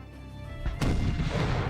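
A single heavy cannon boom erupts from a low rumbling background, followed by a deep lingering roar in an American Civil War video game soundscape.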